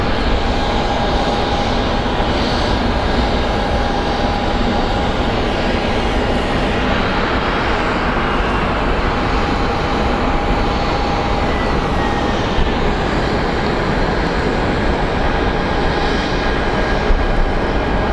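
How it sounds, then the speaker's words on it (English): A Boeing 757 jet airliner at Phoenix Sky Harbor Airport, a loud, continuous engine roar with a steady high whine running across the whole stretch, no voices over it. "Look at how much larger the 757 tail is compared to the little Airbus."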